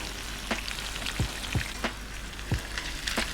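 Thin potato crisps fry in hot oil, a dense, steady crackling sizzle with scattered louder pops and low bubbling bursts at irregular intervals, close and continuous.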